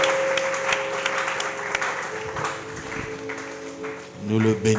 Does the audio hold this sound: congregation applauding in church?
yes